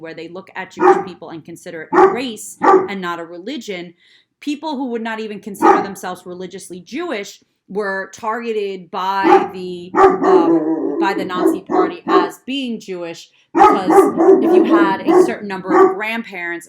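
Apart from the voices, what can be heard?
dog barking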